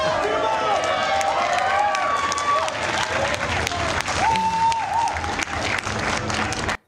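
A live event crowd roars with continuous loud cheering, shouting and applause, a dense wall of voices and clapping that runs unbroken before cutting off abruptly.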